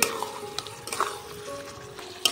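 Spinach masala mixed with fried eggs in a pan, stirred with a few soft scrapes and clicks over a faint steady sizzle, close and fairly quiet.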